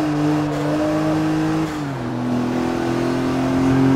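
A Porsche race car engine in Forza Motorsport 3 holds a steady, loud drone that dips slightly mid-run and then climbs again as the car keeps driving, with no talking.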